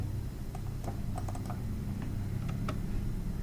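Typing on a computer keyboard while naming a new folder, scattered light key taps over a steady low hum, fairly close and without talk.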